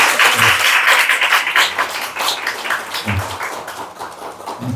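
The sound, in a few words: audience applause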